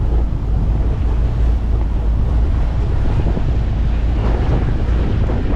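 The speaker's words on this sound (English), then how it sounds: "Yeah, a little breezy out." Steady, loud wind buffets the microphone aboard a sailboat on the Chesapeake, a continuous breezy roar with water wash beneath it and no voices.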